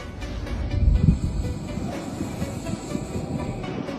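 Air leaks from a faulty carbon canister solenoid valve on a car as a continuous, close, fairly loud rushing hiss with a low rumble underneath, steady throughout with no talking.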